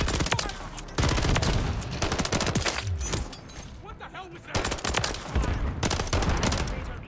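Gunfire from Modern Warfare 3, dense rapid shots and loud bursts filling most of the stretch, with brief pauses between volleys; a pistol is among the weapons in play.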